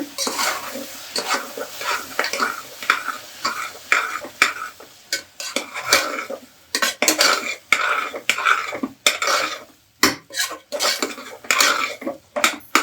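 A spoon stirs and scrapes through aloo methi mixed with chilli powder in a pan. The knocks and scrapes come close and loud in an uneven, busy rhythm over a light sizzle.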